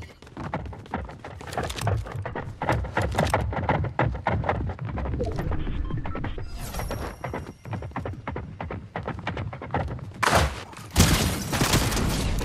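Sustained rapid minigun fire in Fortnite, a dense continuous stream of shots running loud for most of the stretch with brief gaps and a sharp burst near the end.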